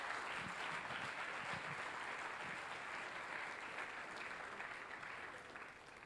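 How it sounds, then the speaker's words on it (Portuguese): A church congregation applauds Jesus during a worship service, a continuous, faint wash of clapping that holds steady and then slowly thins out. "dê um aplauso a Jesus"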